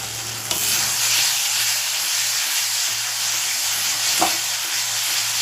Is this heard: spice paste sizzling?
yes